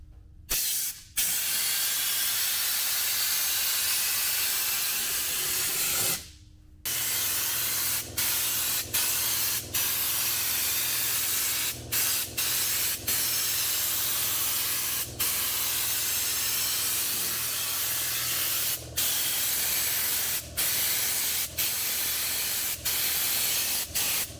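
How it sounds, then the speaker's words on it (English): Steady loud hiss of an aerosol spray can applying a final coat of Lizard Skin coating on a Jeep, held in long continuous bursts broken by brief pauses and a longer gap early on. "tonight we're spraying the final coat, which is in a spray can."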